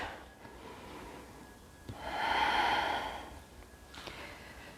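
A single slow, audible breath swells and fades during a yoga balancing pose, rising around the middle of the moment and easing away, close and soft against a quiet room.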